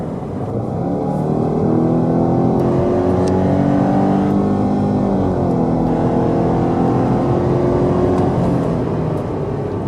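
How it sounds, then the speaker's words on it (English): Subaru Levorg 1.6 DIT with a CVT accelerating uphill, a steady loud engine drone with a rising whine held at high revs throughout, close and continuous, with no talking. "will notice a bit noise from the CVT"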